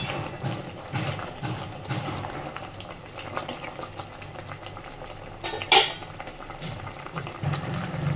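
Papad curry (papor dalna) simmering in a pot, a steady low bubbling hiss running throughout with a few brief louder clinks partway through.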